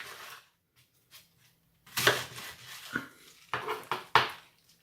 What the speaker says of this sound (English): Then I'm going to chop that really finely.